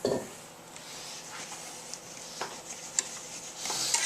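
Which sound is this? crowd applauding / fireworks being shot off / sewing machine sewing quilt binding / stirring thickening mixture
stirring thickening mixture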